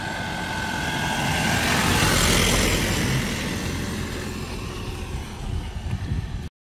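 A fully loaded vehicle passing on a road through the Satpura hill forest, its engine rumble swelling to a loud peak as it draws near, then easing off with some rattling before cutting out.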